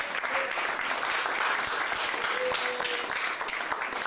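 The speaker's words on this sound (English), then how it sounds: "how about giving them a big round of applause?" A comedy club audience breaks into a big round of applause after a comedian's set, steady dense clapping filling the room for several seconds with a faint voice or two underneath.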